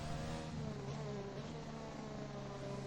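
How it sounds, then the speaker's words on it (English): Renault Formula 1 car crossing the line during a lap in Hungary, a steady high-pitched engine whine held at speed, faint and distant without a clear pass-by swell. "We're going to see a Renault come across the line now."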